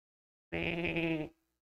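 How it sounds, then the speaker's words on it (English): A single sheep bleat, clear and fairly close, a steady wavering cry of under a second set against silence. "What is that I hear? Is that a sheep I hear?"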